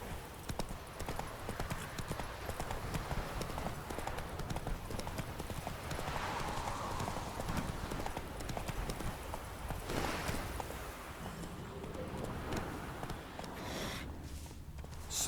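Roach the horse from The Witcher 3 gallops with a steady, rapid clip-clop of hooves, close and loud throughout, with faint ambient game sounds beneath.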